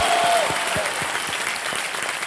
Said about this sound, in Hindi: जोरदार तालियां सुनील छेत्री